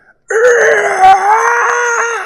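A voice imitating a famous movie scream, the Wilhelm-style yell likened to a TIE fighter, a single loud, close, sustained wail lasting about two seconds.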